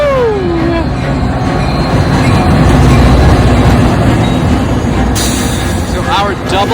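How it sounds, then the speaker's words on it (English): Double-decker commuter train in the Chicago suburbs pulling into a station: a loud, steady rumble of wheels on rail, with a brief squeal near the start and another near the end. "Up, and here comes the train."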